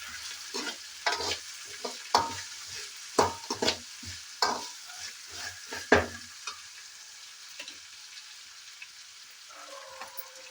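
Spoon scraping and stirring food as it fries in a pan for lemon rice, in irregular bursts over a soft steady sizzle that fades toward the end.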